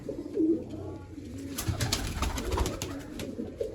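Pigeons coo repeatedly in low, throaty bursts, fairly close, against a steady background hum.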